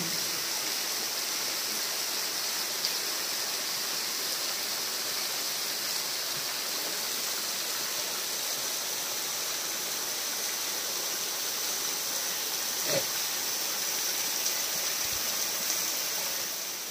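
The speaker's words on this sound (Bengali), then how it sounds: "আর এই ওপর থেকে পুরো ঝর্ণার জলটা আসছে, অনেকটা উঁচু থেকে ফলসের জলটা আসছে।" Lepcha Falls drops from a height into a natural pool and runs off as a stream, giving a steady, even rush of water that stays constant throughout with no voices.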